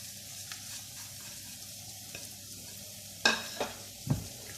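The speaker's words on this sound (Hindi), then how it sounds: "इस सारे मसाले ये इसमें वापस डाल के इसी ऑयल में इसको फ्राई करेंगे।" A masala of ground peanuts and spices fries in oil with okra, a steady close sizzle with a few sharp scraping clatters of a spoon against the pan near the end.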